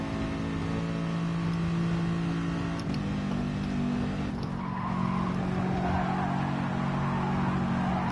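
A Gr.4 race car's engine drones in a racing video game during an FIA event, holding a sustained pitch that shifts partway through, with tire squeal over it and no talking.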